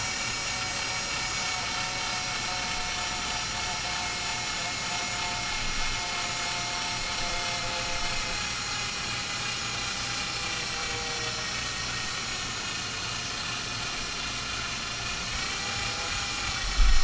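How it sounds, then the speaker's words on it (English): A power drill bores a hole without a pilot hole, its motor whining in a steady, continuous drone close by throughout, with no talk. "Now here I'm going to drill a hole without first making a pilot hole."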